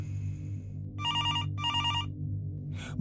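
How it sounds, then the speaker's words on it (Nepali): A mobile phone rings in two bursts of electronic trilling, near and fairly loud over a steady low hum, with a short rustle at the end. "भोलिपल्ट मेरो फोनको घन्टीले मेरो निन्द्रा खुल्यो"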